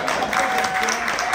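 Brief burst of audience applause at a live music show in a brewpub, crowd clapping close and dense with a voice briefly audible over it.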